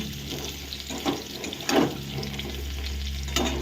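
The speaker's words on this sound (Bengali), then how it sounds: "আলুটা ভালো করে ভেজে নেব আলুগুলো আমার ভাজা হয়ে গেছে" Potato pieces fry in hot oil, giving a soft sizzle with a few louder bursts of stirring or splashing, close and with no talking.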